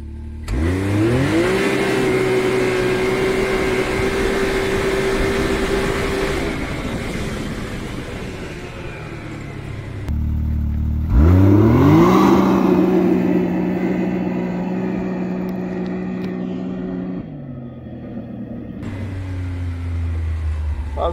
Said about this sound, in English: so that was my two-wheel drive launch